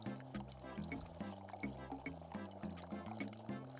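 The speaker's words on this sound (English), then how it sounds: "Hope you all like uncomfortable pouring noises." Coffee or milk pours with a liquid sound effect in the Papa's Mocharia video game. It runs under rhythmic looping game music and stays steady and fairly quiet.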